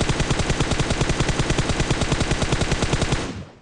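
Rapid automatic gunfire from PUBG Mobile, a loud, steady stream of evenly spaced shots for about three seconds before cutting off and fading.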